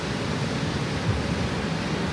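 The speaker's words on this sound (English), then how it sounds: "you probably cannot hear me over the ocean" Ocean surf makes a steady, broad wash of breaking waves, a constant close roar with no speech.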